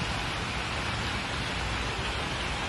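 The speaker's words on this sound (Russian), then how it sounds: "Мощный ливень подтопил и некоторые дороги." Heavy rain pours down steadily in a city during a powerful downpour that floods roads and tram tracks, a dense, continuous hiss of water with no breaks, loud and alone.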